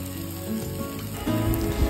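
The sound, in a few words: spices with chili powder frying in pan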